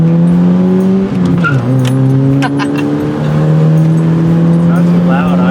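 Slammed Chevrolet S-10 pickup truck engine and exhaust at full throttle, a loud close steady drone that dips briefly as the revs shift, then holds on, with faint cabin noise around it.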